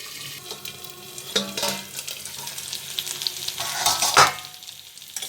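Potatoes and onions sizzling in a pan on the stove, a soft continuous fry punctuated by scraping stirs and clinks of a utensil, with a sharper burst of sizzle near the end and no talking.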